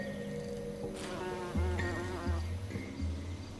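Bumblebees buzz around gentian flowers in a garden, a low droning hum with shifting pitch that swells and fades as insects move close, over a soft outdoor background.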